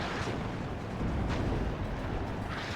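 Artillery fire in the strategy game WARNO: a continuous, heavy rumbling barrage of distant booms, with a few sharper blasts standing out through a dense low roar.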